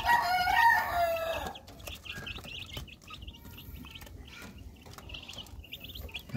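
Chicks and chickens on a backyard coop, a rooster-like crow at the start followed by repeated high peeping chirps and scattered clucks, fairly close with no talking.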